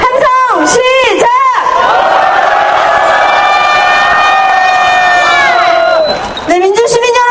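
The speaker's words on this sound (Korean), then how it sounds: "여러분의 함성으로 오늘 11차 촛불을 시작하도록 하겠습니다. 함성 시작!" A large crowd at a candlelight protest rally against President Park Geun-hye roars in a sustained, loud collective shout with whoops and cheering, swelling for several seconds before tapering off as the noise settles back into crowd babble.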